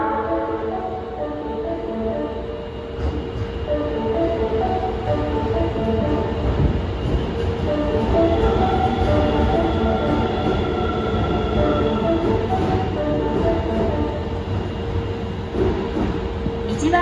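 An Osaka Metro Tanimachi Line 22 series train pulls into platform 1 of a station, its rumble, wheel noise and motor whine swelling as it arrives, with a platform announcement voice heard over it.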